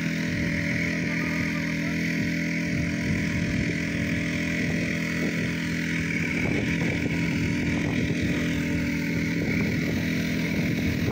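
A floating water pump's small engine runs steadily for the whole stretch, a loud, constant droning rumble with dense low harmonics and no talk over it.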